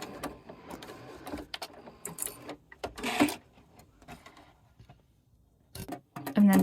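A sewing machine stitching a few stitches backward and then forward to secure a seam on cross-stitch fabric, giving short mechanical bursts of rapid clicking with pauses between runs, close and moderately loud.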